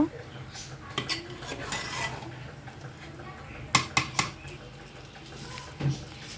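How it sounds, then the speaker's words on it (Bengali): A spoon stirs cooked chicken into biryani rice in a pot, scraping and clinking against the metal with several sharp knocks among softer shuffling, fairly close. "এখন আমি রান্না করা মাংসটা অ্যাড করে দিয়ে ভালোভাবে নেড়ে চেড়ে নিব"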